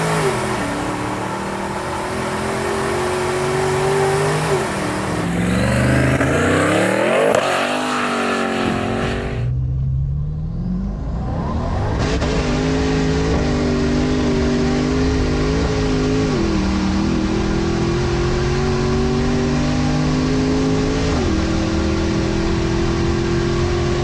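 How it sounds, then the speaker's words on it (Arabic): A Dodge Charger SRT tuned past 1000 horsepower, with an upgraded gearbox and rear differential, revs and accelerates hard, its engine note climbing, cutting out briefly, then pulling again loud and close with no speech. "فان شاء الله هلا راح نسوي لكم دوسة تشوفوا اداء السيارة، تشوفوا اداء الموتر، تنطربوا معنا."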